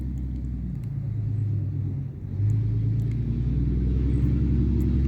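Steady low road rumble from passing vehicles along a rural Texas road near an alleged alien gravesite, continuous and moderately loud with a brief dip before swelling again as traffic rolls by; no voices.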